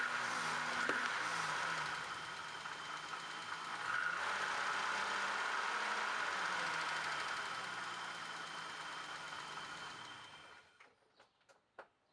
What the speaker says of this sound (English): You'll be able to hear it's got a pretty heavy misfire at idle, and a couple of the valves are definitely ticking